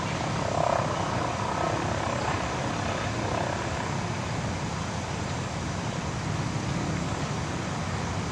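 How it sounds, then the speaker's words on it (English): A helicopter hovers and sets down on top of a tower, its rotor and engine noise forming a steady broad distant roar that holds level throughout with no other sounds intruding. "the helicopter landed on top of that tower there"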